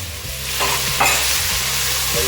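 Whole peeled tomatoes sauté in a pot for minestrone soup, sizzling steadily up close, with a few scraping stirs partway through and no talking.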